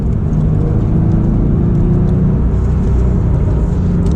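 A Miami Blue Porsche 911 991.2 with rear drive and turbos cruises on an early-spring road covered in salt and rocks. Steady, loud tyre roar and engine drone continue for the whole stretch, with no talk.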